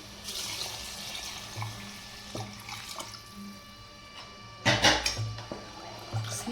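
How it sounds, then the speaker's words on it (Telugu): Water pours into a pot of rice being cooked for egg kushka, two glasses of water per glass of rice. Soft trickles and splashes build to one brief, louder gush near the end. "ఇప్పుడు వాటర్ వేసేస్తాను"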